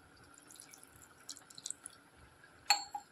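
Water poured into a mixer jar over coriander leaves and garlic cloves for a spice paste, heard as a faint trickle and soft drips, ending in a brief louder splash near the end.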